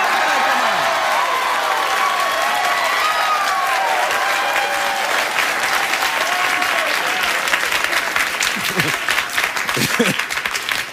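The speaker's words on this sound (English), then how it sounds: "I don't want you to hold your applause." Loud, sustained studio audience applause on a late-night talk show, dense clapping continuing throughout with cheering and voices mixed in.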